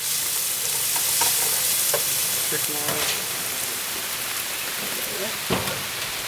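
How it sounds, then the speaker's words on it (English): Pepperoni slices sizzling in hot oil for a sauce, a steady loud hiss of frying close by with a few spoon scrapes and clinks, and faint speech underneath. "I'm actually going to add a little bit of pepperoni to this for my sauce."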